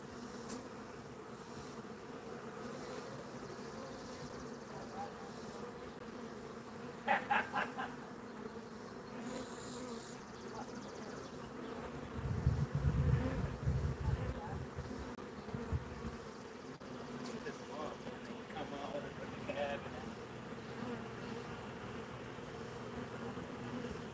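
Honeybees buzz steadily around an opened hive during a bee removal, a dense close drone running throughout with a few louder swells as bees pass near, with no talking.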